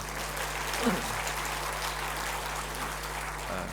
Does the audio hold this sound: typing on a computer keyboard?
no